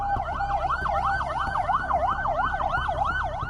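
Ambulance siren arriving at an apartment complex in Karachi's Gulshan-e-Iqbal, a loud, close two-tone wail sweeping up and down in a steady repeating cycle over low traffic rumble, with no voices.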